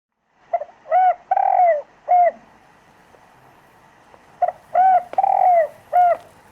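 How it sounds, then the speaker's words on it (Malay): A bird coos in a forest in two bursts of repeated, rounded dove-like calls: short notes and a longer warbling phrase, with a quiet pause between the bursts. "Merdu sungguh suara burung itu."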